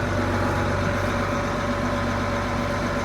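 An older tractor engine idles steadily, a constant low rumble with a humming drone that stays loud and unchanging throughout, with no voices.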